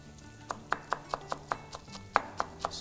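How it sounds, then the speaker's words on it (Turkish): Fresh mint and onions are chopped finely with a knife on a board, about ten crisp, close, evenly spaced blade strikes with little else behind them. "Soğanlarımızı da nane ile beraber ince ince doğrayalım"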